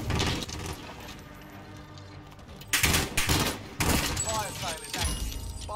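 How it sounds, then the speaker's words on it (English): Rapid bursts of gunfire crackle in Call of Duty Warzone, several loud volleys in quick succession, with a player talking over parts of the action. "There's a guy in a building shooting at me."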